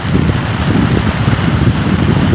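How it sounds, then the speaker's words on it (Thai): Heavy rain falling outdoors by a flooded pond, a loud dense steady hiss with some wind rumble and no break. "ฝนตกนักขนาด"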